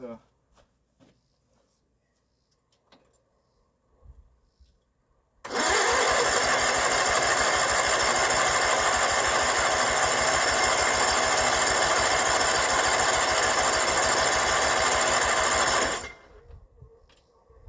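An old skid steer's engine cranks on its first start attempt in years: a loud, steady, fast-pulsing churn lasting about ten seconds without catching, with quiet moments before and after.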